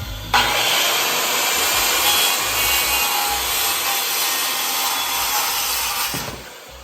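A hand saw ripping through decking boards along a marked line, with one continuous stretch of steady, close, rasping strokes that lasts several seconds and then stops, with no talking over it.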